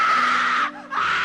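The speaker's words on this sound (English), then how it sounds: "Wow, you scream, so delightful." A loud, close, sustained high scream from a Doctor Who audio drama, broken by one brief gasp before it resumes.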